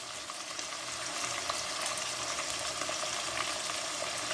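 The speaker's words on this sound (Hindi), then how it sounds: "चिकन को हम इतना फ्राई करेंगे" Chicken pieces sizzle steadily in an oiled karahi, a dense, even frying hiss that holds at a constant level throughout with no voices.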